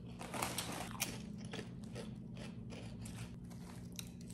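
Sour cream and onion potato chips from a Mexican gas station crunch close to the mouth in steady chewing, a run of crisp bites and grinding repeating throughout with no talking.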